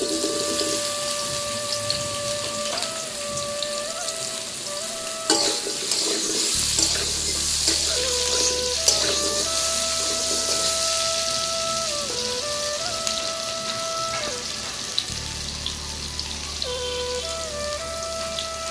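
Boiled potatoes frying in hot mustard oil make a steady hiss and crackle that runs throughout, with a tonal hum in the background.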